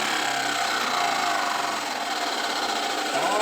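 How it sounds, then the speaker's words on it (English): A homemade disk sander whirs steadily with a dense mechanical whine that begins to slide downward near the end as it spins down, loud and close, alone without speech. "This thing still takes a long time to spin down."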